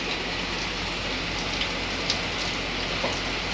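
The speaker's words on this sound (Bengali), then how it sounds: "আর এবার বৃষ্টিটা ভালোই জোরে এসছে।" Heavy rain pours down steadily in a dense, even hiss, close and loud, with a few sharper drops standing out and no voices.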